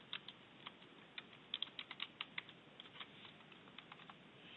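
A password is typed on a computer keyboard in a quiet room, a scattered series of soft, close clicks with a brief flurry of faster keystrokes in the middle, no voices.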